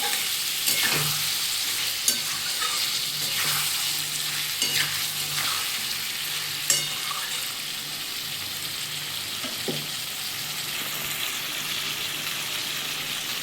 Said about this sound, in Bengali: পরিমাণ মতো নুন দিয়ে দেবো দিয়ে এটাকে আমি ভালো করে একটু কষিয়ে নেবো